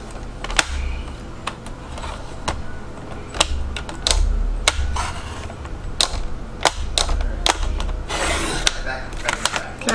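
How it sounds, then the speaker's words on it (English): A paper trimmer cutting a 12x12 scrapbook paper sheet down to size at a craft table, with sharp mechanical clicks and taps followed by a brief rasping slice near the end, close and fairly loud. "now we're going to cut this down to 3"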